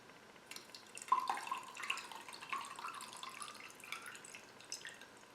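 Water from a servitor vessel is poured onto a potato in a Halloween ritual, trickling and dripping in soft, uneven splashes that swell and fade, fairly quiet and close.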